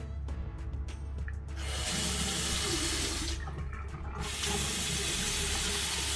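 A hotel bathroom tap runs in a steady rush of water, with brief breaks where the flow is turned off and back on before it resumes strongly.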